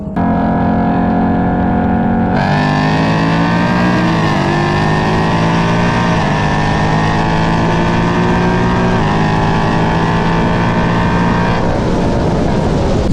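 Cars accelerating hard in a roll race, likely a Cadillac Escalade V, CT5-V Blackwing, Mustang or 6th-gen Camaro SS, a loud sustained close engine roar climbing through rising gear pulls with shift breaks, no talk.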